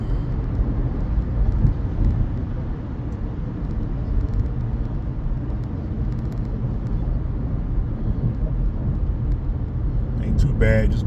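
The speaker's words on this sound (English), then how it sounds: "A little traffic." Road traffic on Atlanta's I-285 perimeter interstate rolls past as a constant low rumble of engines and tires heard from inside a moving car, with a voice talking over it.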